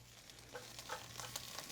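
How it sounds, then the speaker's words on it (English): Washed, cut bok choy searing quickly in a hot pan with olive oil, giving a soft steady sizzle with a few light crackles and pops over a low background hum. "I've cut and washed the bok choy, and I'm going to put it down in the pan here. We're just going to sear it real quick."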